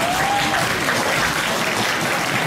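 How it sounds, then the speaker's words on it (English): Sustained applause from an audience at a charity gala dinner, a dense, steady clapping that fills the room at full volume from start to finish without any voices. "Please give your applause to give him the encouragement."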